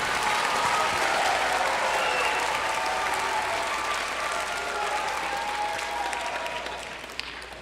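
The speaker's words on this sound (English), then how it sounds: "Give them all a big round of applause." A concert audience gives a long, steady round of applause for the percussion section of a youth orchestra at a family concert, the dense clapping holding strong before tapering off near the end.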